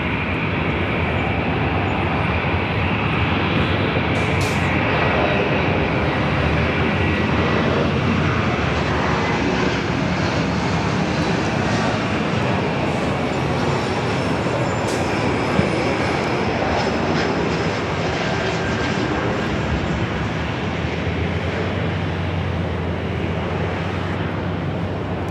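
A Delta Connection Embraer E-175 jet arriving at Los Angeles airport from Reno roars steadily and loudly for the whole stretch, a broad continuous engine rumble with a faint high whine and no talk.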